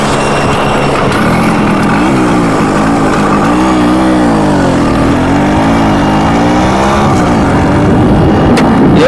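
A Suzuki Max100 motorcycle engine runs loud and close throughout, its note rising and falling as the bike pulls away and rides on. No one speaks.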